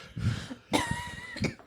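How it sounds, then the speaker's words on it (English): Two bursts of coughing, a harsh hacking cough followed by a shorter second cough, close to the microphone with faint background noise. "Now I'm coughing. We're all coughing."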